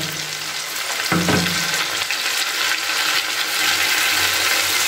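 Ground spice paste and a little water hit hot oil with onions in a frying pan, a loud steady sizzle with a sharp burst near one second, continuing throughout.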